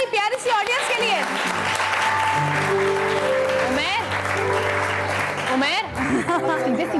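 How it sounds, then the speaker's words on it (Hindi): Studio audience applause on a TV show set, loud clapping throughout with sustained music beneath and a voice speaking over it. "बहुत सारी तालियां हमारी प्यारी सी ऑडियंस के लिए"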